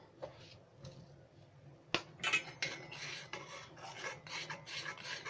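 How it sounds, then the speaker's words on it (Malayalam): A spoon scrapes repeatedly through a thickening semolina and cornflour mixture in a pot, made for homemade ice cream, in a steady run of close rasping strokes with one sharp knock near the start. "അടിയിൽ പിടിക്കാതെ ഇളക്കി കൊടുക്കണം."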